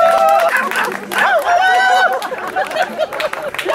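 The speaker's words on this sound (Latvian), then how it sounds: "Aplausi!" Audience at an outdoor theatre performance of Skroderdienas Silmačos applauds amid crowd noise and cheering, the clapping dense and loud but mixed with shouted voices and chatter throughout.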